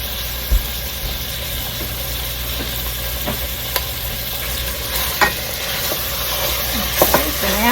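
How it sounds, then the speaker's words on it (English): Hamburger meat browns in a pan, giving a steady close sizzle with a few sharp clicks and scrapes as it is stirred; no one speaks. "I'm just going to brown this hamburger meat up."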